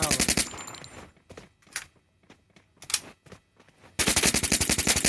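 Bursts of automatic gunfire from the Free Fire battle-royale video game, rapid repeated shots loud at the start and end with scattered single cracks between, and no talking.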